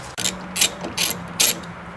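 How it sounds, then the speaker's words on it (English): A hand ratchet loosens 14mm bolts on the front strut of a 2010-2013 Mazda 3, four quick close clicking bursts in even rhythm with short pauses between, no talk. "Got these three 14mm bolts that need to be removed."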